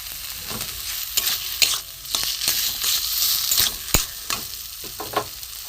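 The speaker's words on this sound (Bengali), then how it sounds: "এর সাথে আমি একটু মশলা দিয়ে কষিয়ে নেবো" Boiled potato and kohlrabi fry with spices in a pan, giving a close, steady sizzle broken by repeated scraping stirs of a spatula, with no talking.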